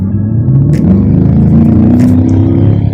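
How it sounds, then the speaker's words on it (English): A 2020 Chevrolet C8 Corvette in tour mode accelerates with a loud, close engine rumble whose pitch climbs steadily throughout, with faint cabin rattles on top. "Acceleration in this car feels phenomenal no matter what mode you're in"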